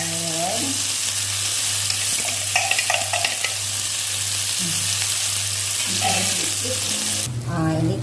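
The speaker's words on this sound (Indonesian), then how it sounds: "Setelah bumbunya saya haluskan, bumbunya ini saya goreng." Ground soto ayam spice paste sizzles and fries steadily in a pan, with a constant close hiss, occasional stirring scrapes and a low steady hum underneath throughout.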